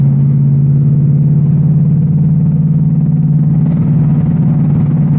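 An 810-horsepower RTR Mustang GT engine rumbles loud and close with a deep, steady idle that swells slightly near the end. No one speaks.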